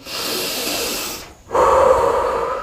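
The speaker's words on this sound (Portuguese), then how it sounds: "Puxa o ar pelo nariz" Two close, loud breaths through the nose, a long airy inhale, a brief pause, then another strong rushing breath.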